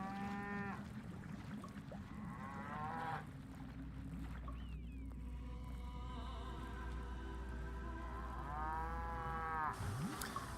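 A cow creature in the Black and White 2 god game moos in long, loud, drawn-out calls, one at the start, another mid-clip and a third near the end, over steady in-game ambience with no talking.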